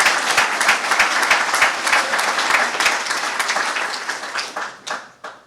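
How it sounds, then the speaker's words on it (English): Applause from an evening civic audience at a State of the City 2013 address, honoring the mayor's wife Laura: dense, loud, steady clapping that thins toward the end into a few scattered claps. "let's give her a hand of applause for"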